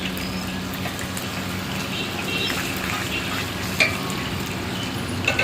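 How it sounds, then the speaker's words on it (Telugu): Fish pieces frying in hot oil, a steady dense crackle and sizzle holding at an even level throughout, with a couple of brief louder pops near the end. "చూడండి ఎలా ఫ్రై చేస్తున్నారు."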